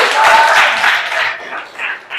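Classroom applause for a student, a short burst of clapping from a group of pupils, fairly close and loud, tapering off over about two seconds.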